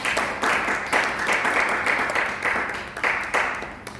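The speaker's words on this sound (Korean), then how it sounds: "박수하겠습니다." A congregation claps together during a Sunday worship service at a Korean church, producing loud, close applause that swells in waves for several seconds with no speech.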